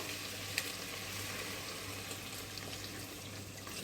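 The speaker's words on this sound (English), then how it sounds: "And now we are going to add the fish stock." Fish stock pours into a hot pan of clams, a steady rushing, hissing wash of liquid with a faint sizzle underneath, continuous and close for a few seconds.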